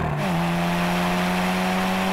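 VW Golf GTI, Golf R and Clubsport launching together in a drag race, a loud engine note rising sharply then holding a steady hard-pulling tone, close and continuous.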